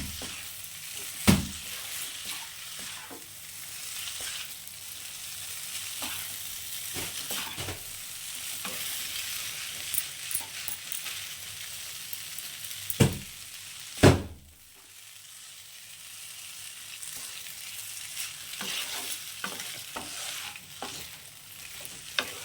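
Chow mein stir-fried Kolkata style on a high flame, a continuous sizzle broken by repeated scraping, tossing and sharp knocks of a spatula against the pan, with a heavy clatter midway, no speech.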